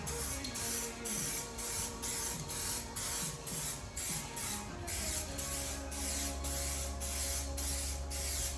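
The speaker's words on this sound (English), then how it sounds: "We will paint it semi-properly, just do a light coat, just to tack it up, and then we'll go back around again." An aerosol spray can puts a light tack coat of paint on a car part during drift car prep, the hiss steady and close, running alone through most of the clip with short pulsing breaks.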